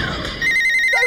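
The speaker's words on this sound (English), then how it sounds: "Don't worry, it's only the maker phone." A toy maker phone in a children's play setting gives a short electronic telephone ring, a bright sustained tone that starts partway through, alone and fairly loud.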